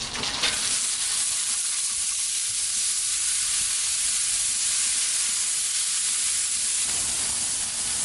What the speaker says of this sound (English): So start off with some oil on there. I'm gonna drop our hash browns.